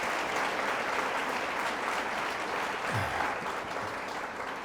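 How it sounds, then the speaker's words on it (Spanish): Steady applause from a church congregation, dense and sustained clapping throughout with no voices standing out. "Un aplauso para el que nos dio la vida eterna."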